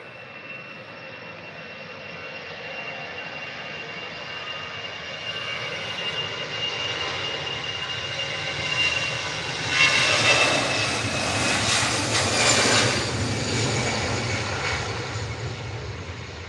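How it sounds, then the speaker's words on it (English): An EasyJet jet airliner takes off at Manchester Airport, its engines a constant distant roar that builds into a louder rumbling peak toward the end as it climbs away, with no talking. "And here comes the EasyJet."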